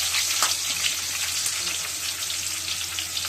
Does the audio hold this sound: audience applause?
no